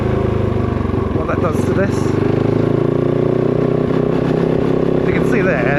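Kove 450 Rally motorcycle engine idling at low RPM after an idle air control solenoid modification, a steady close rumble running throughout while someone talks over it.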